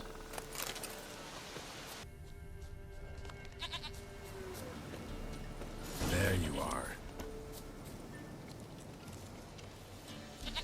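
Goat bleating in The Witcher 3 game world, a brief wavering cry mid-clip amid ambient game sounds and creaks, with someone speaking briefly.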